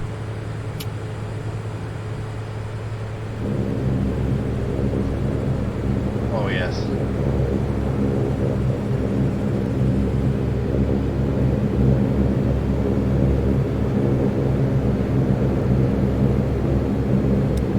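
Saab 340 turboprop engines spooling up in the X-Plane 11 flight simulator: a steady low drone that grows louder and fuller a few seconds in and holds, with a person speaking briefly over it.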